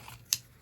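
Scissors snip through card paper while a card is being made, giving two quick, crisp cuts close up against a quiet background.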